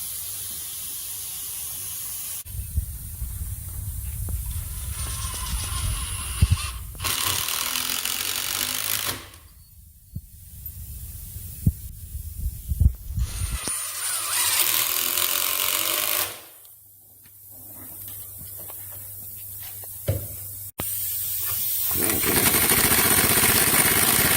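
Heavy bolts fastening 2.5-inch legs onto a horseshoeing stock, heard as several loud, sustained mechanical bursts of a few seconds each, separated by quieter pauses.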